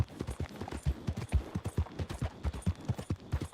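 Horse hooves gallop in the Red Dead Redemption 2 video game, a quick steady run of close, punchy thuds without a break, with no talking over them.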